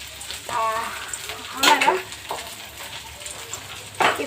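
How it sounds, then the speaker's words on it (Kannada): Mustard and cumin seeds crackle and sizzle in hot oil for a tempering, with a steady close frying hiss, a few sharper pops and faint talk nearby. "ಇವಾಗ ಫಸ್ಟಿಗೆ ಸಾಸಿ ಜೀರಿಗೆ ಹಾಕಿದೆ ನೋಡಿರಿ"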